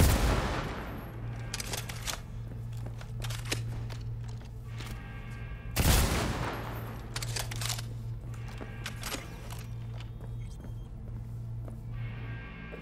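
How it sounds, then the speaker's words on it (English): Gunfire from shooting an enemy in the video game Cyberpunk 2077. Two sharp, loud shots land about six seconds apart, each followed by a decaying tail, over a steady low game hum with a few fainter pops between them. "I guess you could just go like this and just shoot him"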